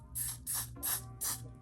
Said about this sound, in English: I'm just gonna hit my freeze spray